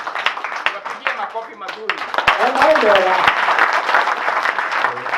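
A church congregation at an ordination service claps loudly and continuously, with a voice speaking over the applause and a few sharp individual claps standing out.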